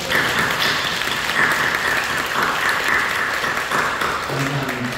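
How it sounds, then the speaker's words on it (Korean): A church congregation gives a long round of applause during a worship service, a steady dense clapping wash at a constant level, with faint voices and a low tone entering near the end. "우리 감사와 영광의 박수를 드리겠습니다."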